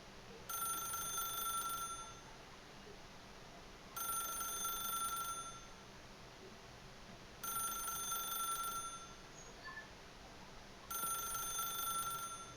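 A telephone rings in the video game The Stanley Parable: four evenly spaced bursts of electronic bell ringing, each about a second and a half long, separated by quiet gaps over a steady low hum.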